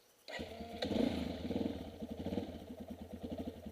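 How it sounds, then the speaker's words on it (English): A Yamaha dual sport motorcycle engine, cold, catches with a sudden start and runs at a rough, uneven idle with pulsing firing beats before faltering, close and moderately loud. "this bike is a little cold-blooded. If you haven't started it, it will stall out like it just did."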